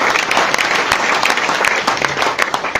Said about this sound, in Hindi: के लिए एक बार जोरदार तालियां